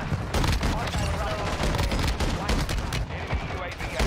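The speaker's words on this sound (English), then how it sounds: "This new shotgun is going to break Warzone." A shotgun firing in the Warzone 2 video game, a dense barrage of loud booming shots close up, continuous for about four seconds with little pause.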